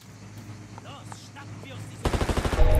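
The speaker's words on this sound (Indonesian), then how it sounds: "ada baku tembak" A shootout in the video game Martha is Dead breaks out as loud, rapid bursts of gunfire, pulsing repeatedly toward the end after a quieter stretch with game ambience.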